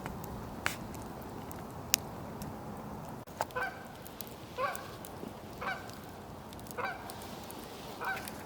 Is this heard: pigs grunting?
no